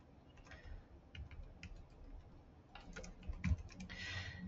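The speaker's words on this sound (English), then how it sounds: "Email, I would type my email in this first" Faint, quiet typing on a computer keyboard: an uneven run of soft key clicks in bursts, with slightly louder taps near the end and no talking.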